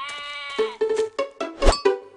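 Sheep bleating in a farm pen, several wavering, nasal bleats in quick succession, close and clear, with no talk over them.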